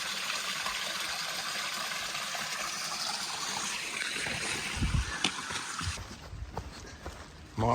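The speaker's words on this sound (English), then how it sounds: "Big old quartzite slab. Big. Nice little waterfall." A small waterfall spilling over a large quartzite slab on a trail gives a steady, broad rushing hiss of water close by, with a few knocks and footsteps toward the end.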